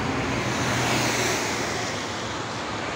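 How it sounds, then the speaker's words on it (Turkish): A steady, dense roar of heavy road traffic, with cars and larger vehicles blending into a continuous broadband rush and no single passing vehicle standing out. "Çok trafik."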